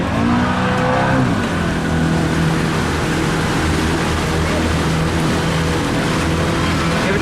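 A motorboat engine roars loud and close as the throttle opens, holding a steady, heavy drone throughout.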